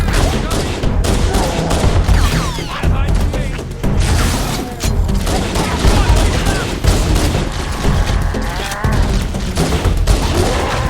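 Dense, loud plasma-style overcharge fire in Halo: Combat Evolved runs continuously amid battle noise, with a voice talking over it.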